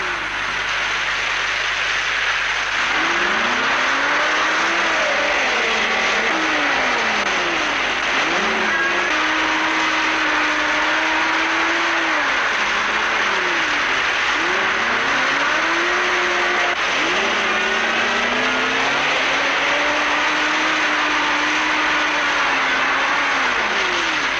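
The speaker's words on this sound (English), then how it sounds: "My vehicle has churned the mud up so much, it leaves little hope of a heavier one getting through." A vehicle engine labours through deep, churned mud on a wet-season track in Cape York in 1972, a steady loud drone with repeated rising and falling revs as it strains forward.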